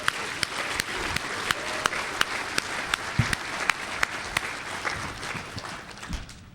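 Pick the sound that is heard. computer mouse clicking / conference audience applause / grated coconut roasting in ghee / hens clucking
conference audience applause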